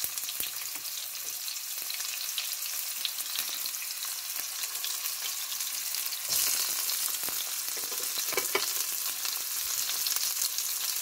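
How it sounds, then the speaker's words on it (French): Onions sautéing in a pan of reserved oil previously used to fry oxtails, a steady close crackling sizzle throughout with occasional louder spits and stirring scrapes, no voices. "Dans la poêle, j'ai rajouté un peu d'huile que j'avais réservée. L'huile qui a servi à frire les queues de bœuf. Ensuite, je vais faire revenir les oignons"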